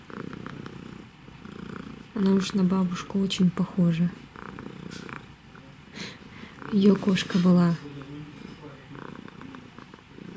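A big fluffy domestic cat purrs with a slightly raspy, wheezy rumble, steady and close, while someone talks over it in bursts.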